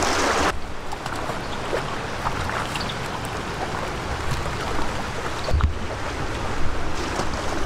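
River water rushing past a person attempting to wade across, a steady, loud broadband roar of flowing water and wind buffeting the microphone, with occasional splashes and no talk.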